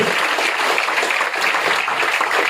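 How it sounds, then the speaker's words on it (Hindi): Audience applause, a dense, continuous patter of many hands clapping at steady loudness, filling the whole stretch without pause. "जोरदार तालियां होना चाहिए माई लाइफ स्टाइल के लिए।"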